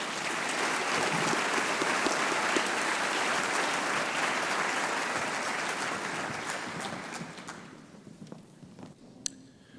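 Audience at a scholarship reception clapping for recipients, a full, even burst of applause that holds for several seconds, then thins out and fades to a few scattered claps and small noises.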